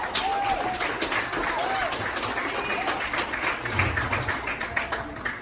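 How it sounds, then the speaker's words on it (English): A crowd applauds steadily and loudly, with clapping sustained throughout and a few voices mixed in. "let's give them a round of applause"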